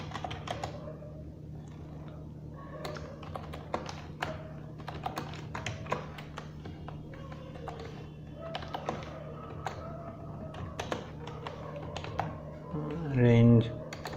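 Someone types C# code on a computer keyboard, with rapid, irregular clicks and taps running steadily throughout, fairly close and moderately loud, with a brief louder mechanical clunk near the end.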